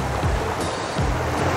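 Heavy water rushing over the Pinawa Dam waterfall, a dense steady roar of cascading flow heard up close and continuous with no voices.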